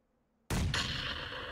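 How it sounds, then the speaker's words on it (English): A frag grenade explodes in the PUBG video game with a sudden loud, close blast that rolls into a sustained rumbling roar and carries on after the initial bang. "Did you just throw a frag?"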